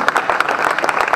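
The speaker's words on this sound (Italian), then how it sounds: "Cos'è l'applauso a Rivera o al Milan?" An audience bursts into dense, sustained applause at a public event with footballer Gianni Rivera in Baone, many hands clapping together loudly and close, with no speech over it.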